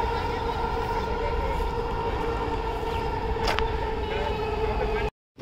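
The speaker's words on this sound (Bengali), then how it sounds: "আর পাশ দিয়ে মেট্রো রেল যাচ্ছে," A metro rail train passes beside a cattle market in Uttara Diabari, its steady droning hum and whine holding evenly before cutting off abruptly, with crowd noise around it.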